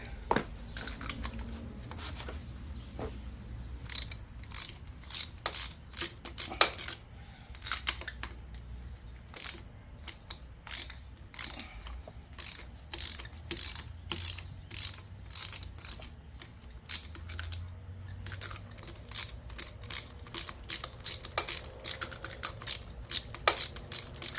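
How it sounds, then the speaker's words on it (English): A ratchet with a 5/8 socket works spark plugs out of a Harley Sportster engine, giving repeated sharp clicking bursts in steady strokes close to the mic, with no talking. "this is a 5/8 socket. That way we remove the spark plugs."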